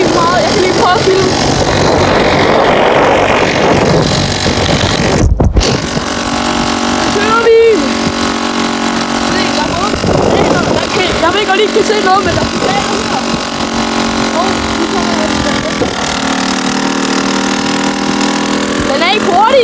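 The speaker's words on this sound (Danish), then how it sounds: "det er en knallert, så det er fedt at køre på den" A small moped engine with a rough, shaky motor runs steadily and buzzes loudly up close throughout. A rider talks over the noise.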